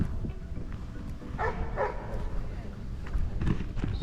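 A dog barks and yips a few times at middle distance in an open park setting, under someone talking steadily over low background rumble.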